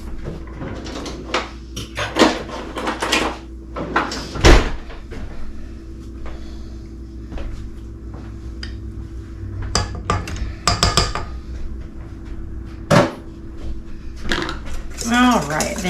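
Kitchen utensil clatter while fetching a whisk from a drawer for a cinnamon roll batter of creamed butter, sugar and eggs: a drawer rattles and clunks, then a whisk clicks and taps against a bowl in irregular bursts, with brief talk.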